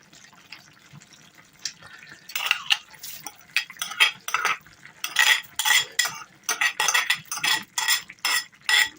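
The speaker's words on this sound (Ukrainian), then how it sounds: "Тепер необхідно добре перемішати." A utensil scrapes and clatters in a pot of goulash with added rinsed rice, a series of repeated stirring strokes getting busier toward the end, close and moderately loud with no talking.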